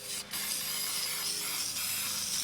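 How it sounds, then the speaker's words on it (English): An aerosol spray can lays a thick glossy coating over tiles, giving a steady close hiss that runs almost unbroken with one brief dip near the start. "these tiles a real thick coating of spray"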